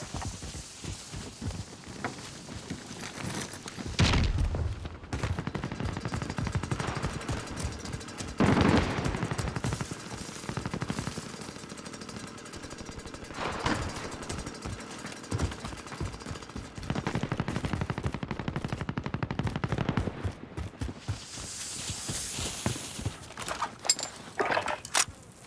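Gunfire in Call of Duty Modern Warfare, loud bursts of automatic and single shots recurring in several clusters amid battlefield noise, fairly close and without talk.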